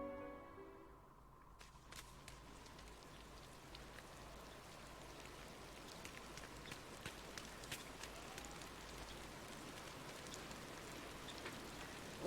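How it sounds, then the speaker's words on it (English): Rain falling in the video game Disney Dreamlight Valley, a steady faint patter of drops spread across the whole stretch, with scattered brighter droplet ticks and no talking. "Well, it sounds like it's raining,"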